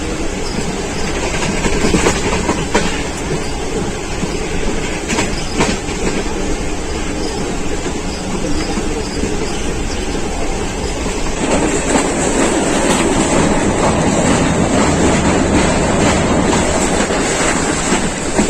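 A Pakistan Railways passenger train on the Lahore to Rawalpindi line runs steadily along the tracks, with a loud continuous rumble and rhythmic clickety-clack of wheels over rail joints, heard from inside without any talk.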